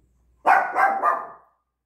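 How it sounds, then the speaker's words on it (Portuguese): A female dog barks a few times in a quick burst, close and loud, with silence before and after and no talk over it. "A cachorra da minha latiu."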